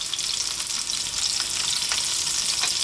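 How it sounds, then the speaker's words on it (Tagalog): White onion rings sizzle in a frying pan, a steady close hiss of hot oil with faint crackles and no voices over it. "habang pinapan fry po natin yung ating white onion ring"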